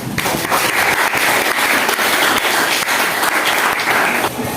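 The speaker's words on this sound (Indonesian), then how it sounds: "Hari ini tolong diberikan aplaus bagi semua kelompok." Classroom applause for all the discussion groups at the end of a religious studies lesson, a steady dense clapping from many students that holds at full strength for about four seconds, then stops.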